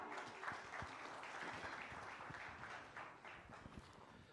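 Applause welcoming a speaker at a film tourism conclave in a conference hall; steady, moderately dense clapping at a quiet, somewhat distant level, continuing without a break.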